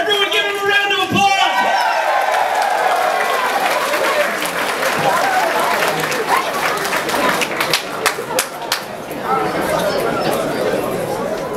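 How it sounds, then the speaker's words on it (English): A crowd at a speech at Auburn University breaks into loud, sustained applause, with dense clapping, whoops and chatter that swell and ebb over several seconds. "Everyone give him a round of applause!"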